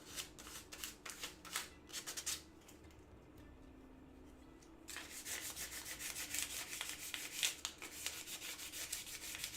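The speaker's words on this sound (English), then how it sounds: "I'm gonna further smooth down what is already smooth with a finer grit than what I hit it with" Fine-grit sandpaper rubbed back and forth over an already smooth surface, a soft steady scratching rasp in close, rhythmic strokes that pause briefly midway before resuming.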